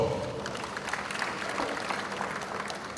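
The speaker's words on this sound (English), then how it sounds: "I believe that deserves a round of applause." Audience applause at a CNG autogas industry event held by IPMAN and PI-CNG: a steady, moderately loud wash of clapping from a crowd that carries on evenly for about three seconds with no voices over it.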